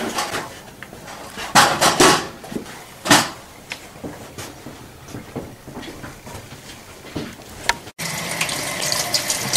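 Tap water runs into a sink while a steam boiler's water-fill strainer is washed and flushed out, with splashing, clattering handling and bursts of rushing flow, ending in a steady loud gush.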